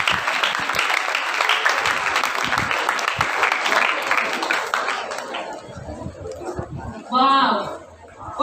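An audience at the Josephite Festival 2025 applauds after a performance, a dense and steady burst of clapping that fades as a voice begins speaking near the end.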